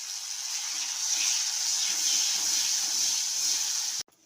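Mashed boiled garlic dropped into hot mustard oil tempered with black cumin seeds fries with a steady, loud hiss that runs unbroken for about four seconds, then cuts off abruptly.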